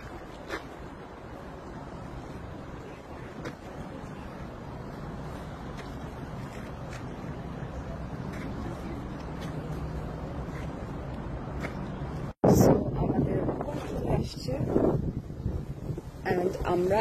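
Outdoor wind on a city day in Toronto rushes steadily and buffets the microphone in a constant low roar, growing louder and gustier near the end.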